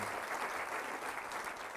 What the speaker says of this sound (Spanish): Vamos a darle un aplauso al Rey de Reyes y Señor de Señores, Jesucristo.